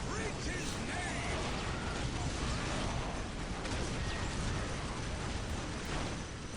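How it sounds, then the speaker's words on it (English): Strafing run explosions in Dawn of War Soulstorm, a dense, continuous wash of blasts and crashes at moderate volume, with a voice talking over the battle noise. "using the strafing run again"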